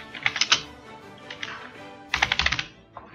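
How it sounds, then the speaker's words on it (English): Bursts of typing on a computer keyboard while working in the PyCharm code editor, a quick run of close key clicks, a lighter scattered patch, then another dense flurry of taps. "You can see I can type whatever I like."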